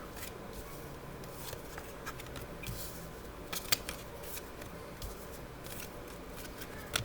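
Tarot cards being shuffled by hand, with soft, quiet papery riffles and light snapping flicks, plus a couple of sharper clicks, all faint against a low room hiss.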